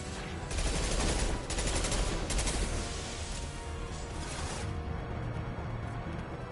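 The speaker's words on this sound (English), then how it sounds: "Firing an impact shot." Rapid, dense gunfire crackles as an impact shot is fired in the Mass Effect video game, a loud continuous burst of shots that thins slightly toward the end, with no voices.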